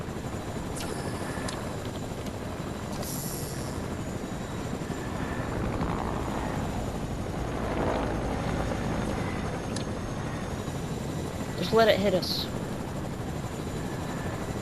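A Fortnite helicopter drones steadily with whirring rotors while people talk over it, with a brief sharp effect near the end.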